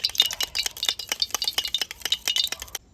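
Sour curd whisked briskly in a glass while cooking a village egg and soybean curry, a fast, rhythmic run of close, bright clinks and scrapes that stops abruptly just before the end, with no talk.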